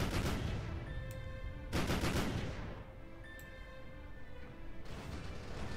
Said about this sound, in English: Oh god, the ships are fighting!